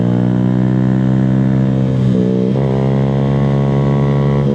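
A Honda Grom motorcycle revs hard on a mountain road, its engine a steady loud drone that dips briefly mid-clip and then climbs again, close and continuous with no talk.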